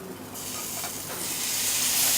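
Chanterelle mushrooms dropped into a pan of hot olive oil beside roasting scallops: a close, steady hiss and sizzle that swells and grows brighter as the mushrooms hit the oil.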